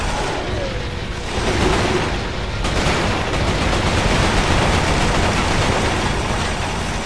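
Sustained machine gun fire in the PS3 shooter Resistance: Fall of Man forms a dense, continuous roar of rapid shots and battle noise, loud and unbroken across the whole stretch.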